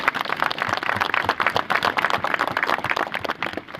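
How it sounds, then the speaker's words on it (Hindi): A church congregation claps loudly and rapidly through a pastor's healing prayer service, a dense, steady burst of hand claps with no talking. "जोर से ताली बजाओ।"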